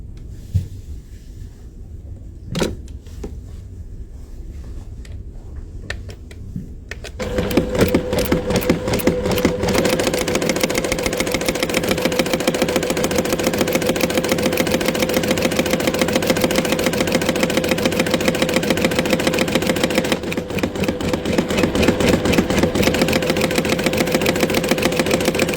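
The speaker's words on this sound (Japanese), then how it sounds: "シャツの前立て部分に両冠止めのボタンホールを縫っていきます。" A JUKI sewing machine stitches a bar-tacked buttonhole into a shirt placket. After a few quiet seconds with faint clicks, it starts up and runs as a loud, steady, fast mechanical whir with a dense rhythmic chatter, lasting to the end.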